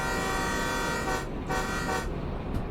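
A sustained train horn blares loudly from a locomotive in the railway game Derail Valley, one long steady blast across the whole clip near a tunnel, with no talking.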